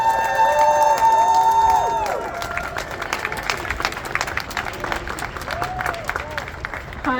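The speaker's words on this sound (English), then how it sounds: "Let's have a big round of applause." A rally crowd in Edmonton breaks into applause and cheering after a sustained tonal sound, a burst of clapping and shouts that carries on steadily to the end.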